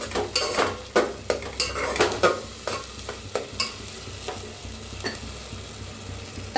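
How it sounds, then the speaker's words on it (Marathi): Misal pav masala with red chilli powder roasting in a little oil, stirred with a metal spoon: a quiet sizzle broken by regular scraping strokes against the pan, close and without speech. "चांगलं भाजू तेलात थोडंसं"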